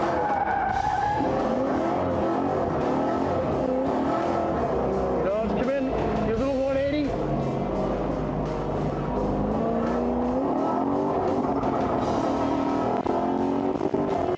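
A car drifting in first gear through a tight cone course, engine roaring steadily with tire skids and squeals, loud and continuous while a person talks over it.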